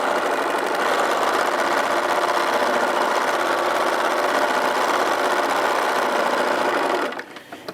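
Sewing machine stitching seams at a fast, steady mechanical whir with a rapid needle chatter, close and loud, running continuously before stopping abruptly near the end with a few faint clicks.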